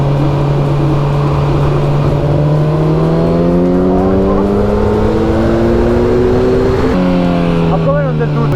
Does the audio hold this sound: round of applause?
no